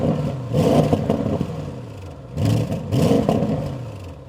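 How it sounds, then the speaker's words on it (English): An Audi RS6 Avant GT petrol V8 fitted with a particle filter revs up and settles in two or three swells, its exhaust note burbling, slightly thin, and fairly close. "if you think that sounds a little thin, this is the version with the OPF, the particle filter for the petrol engine"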